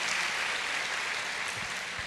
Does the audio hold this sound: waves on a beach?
no